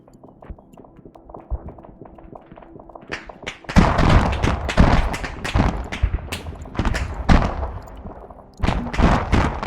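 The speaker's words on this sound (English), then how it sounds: "Ooh, that's the artillery." Artillery fire in the Arma 3 video game. After a quieter stretch, a dense run of heavy thumps and booming blasts erupts and keeps pounding loudly, with a second surge near the end.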